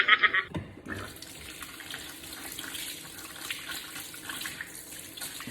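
Running tap water rinses a vacuum hose, a steady close splashing hiss after a few brief squeaks at the start, continuous and moderately quiet with no talk.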